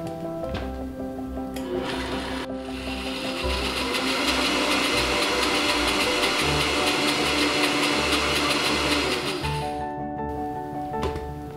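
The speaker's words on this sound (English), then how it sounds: "All right, now we're gonna put the lid back on and blend again" A blender whirs through lemon fat bomb ingredients with maple syrup, a loud steady motor roar lasting several seconds before cutting off, with softer mechanical hum before and after.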